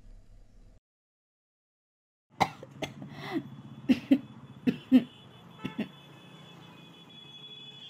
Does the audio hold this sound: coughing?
yes